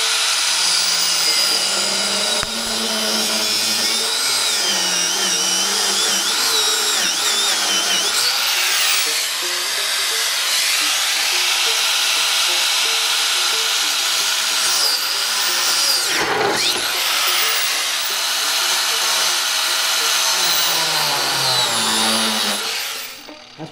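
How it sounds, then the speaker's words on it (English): An angle grinder cuts through a steel steering shaft while fabricating a hot rod power steering setup, a loud, steady high-pitched whine lasting over twenty seconds with shifting pitch as the disc bites into the metal, then stopping abruptly. "So, I'm cutting my grinder on. Cut that shaft again."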